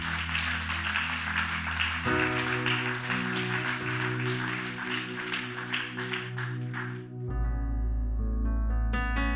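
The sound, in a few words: church congregation applause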